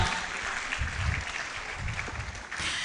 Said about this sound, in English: Let's give Professor Edu-Buandoh a round of applause as she finally takes her seat